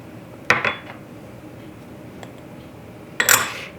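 Beef jerky marinade being mixed with honey in a bowl, with a few clinks and scrapes of a utensil against the bowl, two clusters about three seconds apart over quiet background.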